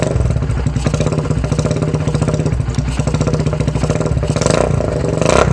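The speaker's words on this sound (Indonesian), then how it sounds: "Suaranya blar-blar juga ya, mantap." A Kawasaki W175 chopper-bobber motorcycle engine runs loud and close with a rapid, throbbing putter, blipped and revved in short surges near the end.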